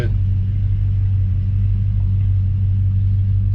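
A rebuilt Squarebody truck driving under its own power, its engine giving a steady, loud, close low rumble from inside the cab with no pauses, a faint murmur of talk mixed in.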